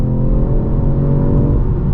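A 2025 Ford Puma ST with the Handling Pack, shifted manually on paddles, drones loudly from close inside the cabin, a steady low engine hum with a faint burbling texture throughout.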